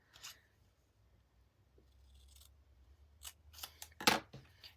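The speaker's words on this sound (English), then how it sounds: "So you're just going to go around and cut it in about 1 inch or a little bit more." Scissors cutting around a paper pinwheel flower, with a few close, crisp snips coming together into a quick cluster of sharp cuts near the end over a faint hum.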